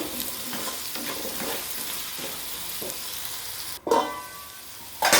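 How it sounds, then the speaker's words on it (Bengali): Potatoes are stirred in a pan once the lid is lifted, for a low-oil potato and soybean dish. A steady close sizzle runs throughout, with a sharp clatter near the end that could be the lid, followed by louder frying. "এবার একটু নাড়িয়ে দেবো ঢাকনা তুলে"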